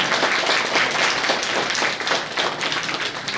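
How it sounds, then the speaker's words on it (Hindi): Audience at an all-India neurotherapy convention clapping together, a sustained dense round of applause heard close and fairly loud for the whole stretch, with no voices over it. "एक बार जोरदार ताली होता है।"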